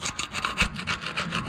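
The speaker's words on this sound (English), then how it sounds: "you'll take a screwdriver and kind of clean this up in here a little bit" A screwdriver scraping dirt and grime off a front brake part on an '08 Toyota Tacoma: steady, rhythmic rasping strokes repeating about five times a second, close and fairly loud with no talking.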